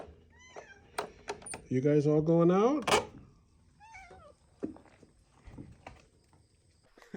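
Farm cats meowing on a small farm, several short mewing calls scattered among a person's spoken remarks, with one longer, louder rising meow near the middle and soft shuffling movement around them.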